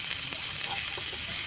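Ginger and spices sautéing in a wok-style pan make a faint, even hiss with light scraping, heard close up for a moment with no talking.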